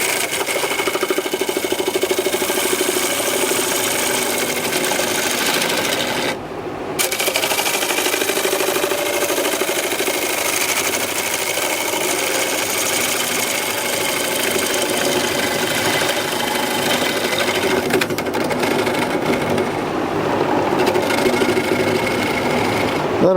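Wood lathe turning a punky pine bowl blank, a continuous loud whirring hum with the grind of cutting, briefly dropping out for a moment near the start and then running on steadily.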